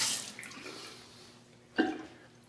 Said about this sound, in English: we're going to wet our face with some hot water